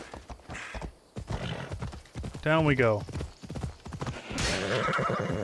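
A horse in the video game Assassin's Creed Odyssey gives a loud, close whinny between rapid clip-clopping hoofbeats, while a person talks over much of the sound.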